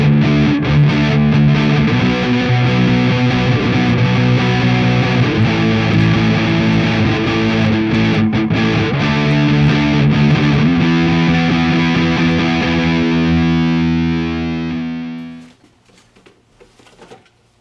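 A Stagg SVY 533 semi-acoustic electric guitar plays distorted, overdriven chords and riffs, loud and sustained, before the final notes ring out and fade into near silence.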